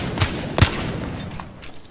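Gunshots in Apex Legends, two sharp close reports followed by a few fainter distant shots, brief and punchy over a busy game backdrop.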